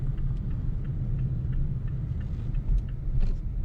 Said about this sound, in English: Now we'll get a good acceleration right here and see how it feels.